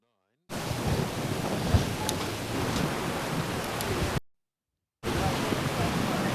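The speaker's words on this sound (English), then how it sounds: "The wind continues to gust inconsistently." Gusting wind buffets the microphone outdoors at a lawn bowls green during the 2011 NZ Open men's singles, a loud steady roar that cuts out briefly and then returns.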